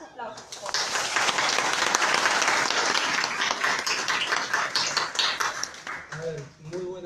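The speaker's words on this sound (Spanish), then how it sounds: "Fuertes aplausos." A lecture audience bursts into strong applause, dense clapping swelling up quickly and staying loud before tapering off, with a voice briefly speaking at the end.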